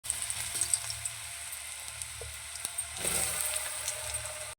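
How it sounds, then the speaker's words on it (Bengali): Okra coated in gram flour frying in hot oil, a steady crackling sizzle with small pops, growing busier near the end, close and without talk. "গরম হয়ে গেছে, এবার আমি ভেজে নেব।"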